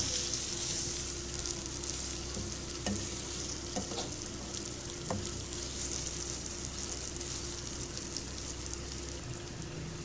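Eggs cooking in a pan of pepper masala, a steady close sizzle and bubbling with occasional light scrapes and clicks of stirring, continuous and even for the whole stretch.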